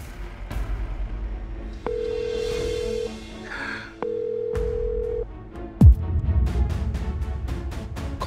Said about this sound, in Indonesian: Kok nggak diangkat-angkat teleponnya?